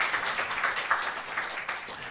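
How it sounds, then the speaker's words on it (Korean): A church congregation gives welcoming applause for a missionary serving in the Philippines, a soft, continuous patter of many hands clapping, fairly distant and even throughout. "우리 환영의 박수 하겠습니다"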